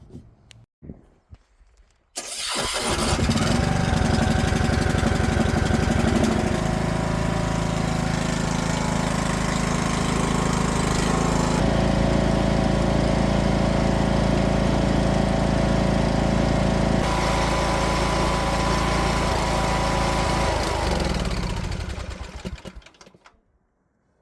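A riding lawn mower's engine cranks, catches and runs steadily at close range, loud and continuous for about twenty seconds before cutting out, with no talk over it.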